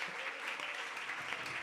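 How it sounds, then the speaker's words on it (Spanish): A church congregation claps together in a steady, dense round of applause, soft and somewhat distant, sustained for a moment. "dele un aplauso al Señor en esta mañana"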